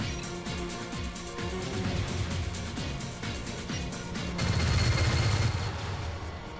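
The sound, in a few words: spaceship guns firing in the video game Starlancer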